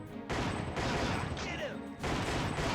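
Video game gunfire: loud bursts of shooting in a few long sustained blocks with brief gaps, close and harsh, with raised voices mixed in.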